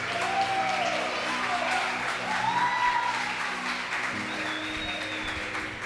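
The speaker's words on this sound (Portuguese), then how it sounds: "você aplaude ao Senhor em nome de Jesus" A congregation applauds steadily, a broad wash of clapping with a few scattered voices and cheers mixed in.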